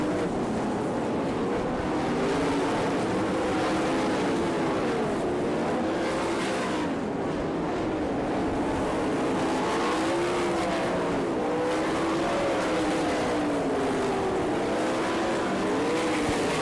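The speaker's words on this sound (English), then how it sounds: "Byron Reed, car number 5, continues to run in second." Race car engines roar continuously with rising and falling pitch as cars speed around a track in a race in Florence, Kentucky, loud and steady throughout.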